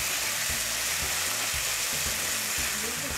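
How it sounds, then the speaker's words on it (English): Veal scallopini browning in a hot pan, a loud dense sizzle that fills the whole stretch without letup, with soft low bumps as the meat is moved about. "We're cooking the scallopini only until it is browned on both sides."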